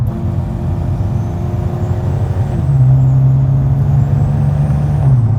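A 2020 Infiniti Q60 Red Sport tuned to 640 whp and 550 tq accelerates hard from inside the cabin, engine drone rising, then dropping sharply at a quick gear shift before pulling again loudly.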